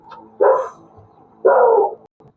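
Two loud, close dog barks about a second apart, each a short harsh burst, with faint shuffling noise around them and no talking, during a police encounter at an open doorway.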